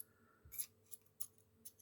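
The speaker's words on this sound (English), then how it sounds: "But I put the pair of scissors in the outdrive." Metal scissors slid into the outdrive of a 1/10 scale RC buggy ball differential during a rebuild, giving a few short, faint metallic clicks and scrapes spaced apart in quiet surroundings.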